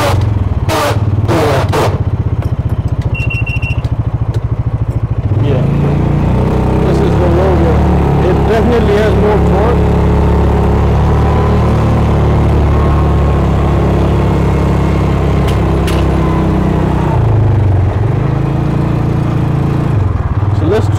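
A Massimo Buck 450X gas UTV engine drives in low gear, a close motor hum that rises and settles while the vehicle rolls along with clattering bumps, and a person talks over it.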